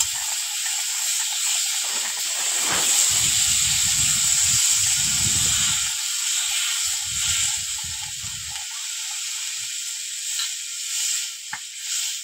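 Water poured into a hot pan while cooking a red snakehead fish curry. A sharp steam hiss and bubbling bursts come first, then a softer hiss lingers.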